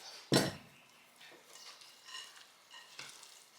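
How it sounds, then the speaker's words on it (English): A spoon clanks once against a bowl, then stirs and scrapes through a strawberry, chocolate and pistachio granola mixture in soft, uneven strokes close by. "Give it a good mix."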